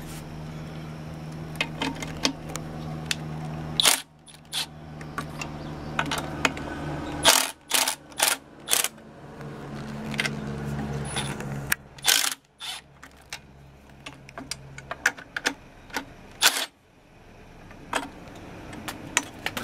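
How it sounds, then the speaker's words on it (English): Nuts are loosened on the bottom motor mount of a Yeti 2 pitching machine, giving close, sharp metallic clicks and ratcheting bursts in irregular clusters over a low steady hum. "go ahead and loosen all four of these nuts here on this bottom motor mount"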